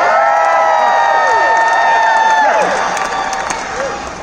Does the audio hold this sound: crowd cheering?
yes